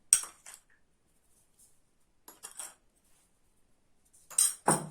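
Metal utensils clink and scrape against a bowl while ingredients for a cabbage-and-meat lunch are mixed and salted, coming in a few short scattered bursts separated by near silence.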